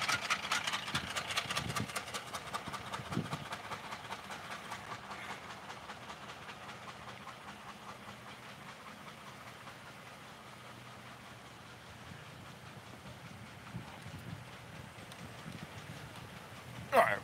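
A rapid, rhythmic slapping and flapping of a broken serpentine belt in a running car engine, loud and close, gradually easing over time amid steady mechanical noise.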